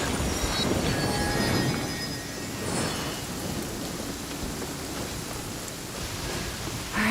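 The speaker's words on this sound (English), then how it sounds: "Let us find shelter from the rain." Steady rain pours down in the Genshin Impact game world, a dense even hiss that holds at the same level throughout with no voices over it.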